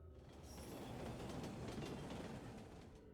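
Train ride in the video game Root Letter, with a continuous, steady rolling rumble and faint rail clatter that holds at an even level throughout, with no voices.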